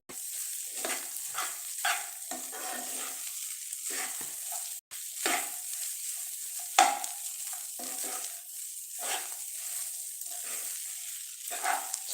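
A ladle stirs tomato rice in a pan, giving soft scraping and sizzling sounds in irregular strokes, close and steady, with no talk.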